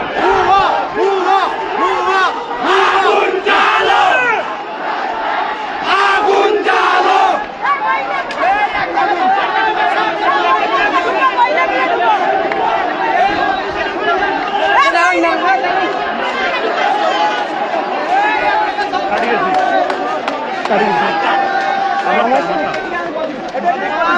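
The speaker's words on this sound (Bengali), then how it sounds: "পুলিশকে লক্ষ্য করে আসলে শিক্ষার্থীরা ভুয়া ভুয়া স্লোগান দিচ্ছেন।" Crowd of students at a one-point demand protest in Gaibandha chanting a slogan at police, a loud, continuous mass of shouting voices with rhythmic surges and general crowd chatter throughout.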